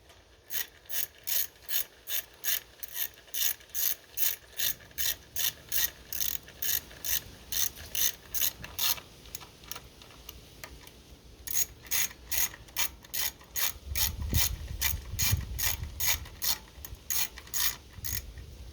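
A hand ratchet tightens bolts on an aluminum motorcycle crash cage for a 2025 Kawasaki Z125 Pro, giving fast, evenly spaced clicks in repeated bursts with a brief pause midway and a low knock near the end.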